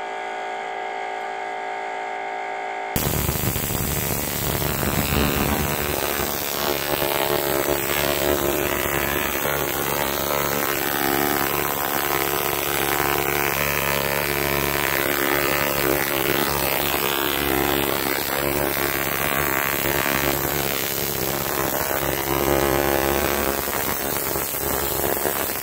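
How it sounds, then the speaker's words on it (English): A Tesla coil runs in a negative ion generator demo, giving a loud steady electrical buzz and hum with static crackle that starts abruptly after a few seconds and continues unbroken. "So let's get the Tesla coil fired up."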